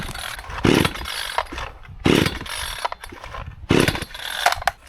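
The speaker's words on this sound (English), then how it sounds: "This idiot doesn't even know how to start a chainsaw." A chainsaw is pull-started and sputters through three loud bursts of running engine, each dying back between pulls before a final longer rev.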